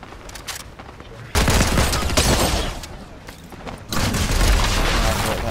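Heavy, rapid gunfire in the video game Fortnite comes in two loud sustained bursts, close and harsh, after a quieter stretch with lighter shots.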